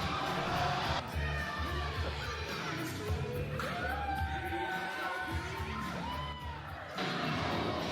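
Crowd at a King of Sports wrestling event cheering steadily for Alliance champion Nobe Bryant, a dense roar with whoops and shouts, with a commentator's voice over it.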